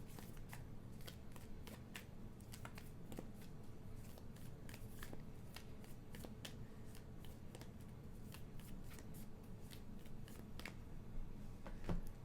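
Tarot cards are shuffled by hand in a quiet room, giving a long run of crisp, irregular riffling snaps and slides, close and soft, with no talking.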